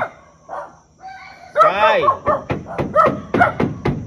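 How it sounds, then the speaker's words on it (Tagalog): Several dogs bark and yip close by in quick, uneven bursts, overlapping with lively conversation and a called-out name. "Dami aso dito oh!"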